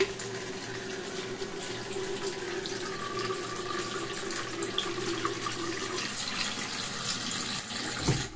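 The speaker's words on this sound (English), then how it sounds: "Better wash your hands." Hands washed under a running tap at a sink, a steady, close splashing stream of water continuing evenly throughout with small fluctuations.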